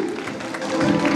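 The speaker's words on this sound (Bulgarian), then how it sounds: "Аплодисменти." Audience applause at a children's beauty pageant award ceremony, a steady wash of many hands clapping mixed with crowd murmur, swelling slightly toward the end.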